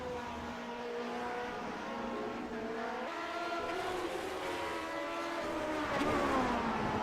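Vintage Grand Prix race cars at Brands Hatch in the iRacing sim, with several high engines droning and rising in pitch together as the pack accelerates, steady and loud, building toward the end.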